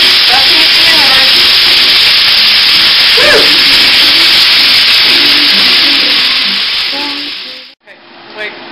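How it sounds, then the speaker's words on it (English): Meat sizzles loudly in a hot skillet, a dense, steady hiss that fills the foreground, with a brief voice exclaiming partway through before the sizzle cuts off near the end. "You're now adding the meat to the skillet. Listen to it sizzle."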